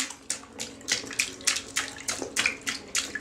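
A small child splashing water in a bathtub at bath time: a rapid, rhythmic series of close, bright slaps and sloshes, about a dozen in three seconds, with no talk.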